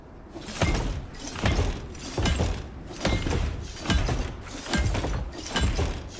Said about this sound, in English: I fix the glass by hitting it.